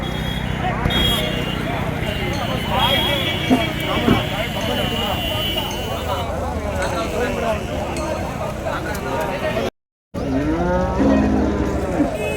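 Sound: Jersey cattle being unloaded at a cattle market

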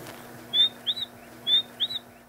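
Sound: person imitating bird chirping

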